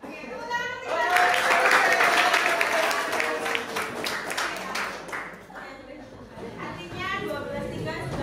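A classroom of students claps along in a rhythmic group clap, bursts of hands mixed with lively children's voices chanting and talking.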